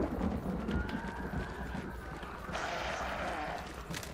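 Horse hooves gallop in the video game Hunt: Showdown, a steady muffled clatter under loud rumbling ambience, with thunder-like noise swelling partway through.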